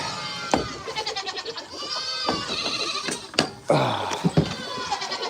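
Herd of well over a hundred goats bleating for food at feeding time on an animal farm, many overlapping wavering cries from several animals near and farther off, with brief knocks and a person speaking among them.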